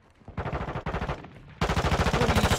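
Rapid automatic gunfire in the video game Modern Warfare 2, several fast bursts of closely spaced shots, quieter at first and then a louder, sustained rattling burst.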